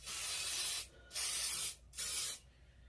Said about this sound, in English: the instructions say to spray where you want it to, and then blow dry